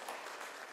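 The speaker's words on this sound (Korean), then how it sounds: "하나님의 은혜에 박수 한번 칠까요?" A church congregation claps briefly at a Sunday worship service, a short burst of dense, even applause filling the hall.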